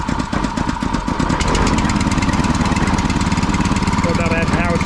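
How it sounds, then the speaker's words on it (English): A Honda petrol engine on a concrete mixer runs steadily and loudly throughout, a continuous rapid mechanical chug close to the mic with a voice talking over it near the end. "See how quiet the engine now, see how good it works"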